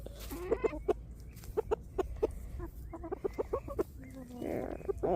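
A hen clucks repeatedly in short, close bursts, with a low steady hum behind and a harsher squawk near the end.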